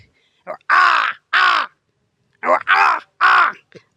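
A man imitates a crow's caw in two bursts, first a double caw and then a rapid run of harsh caws, loud and close.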